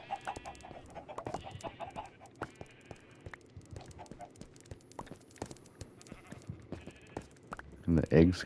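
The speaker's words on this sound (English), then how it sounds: "you might hear there's chickens underground." Several Minecraft chickens cluck in short, scattered bursts, with occasional bleat-like calls, ending in a louder close burst.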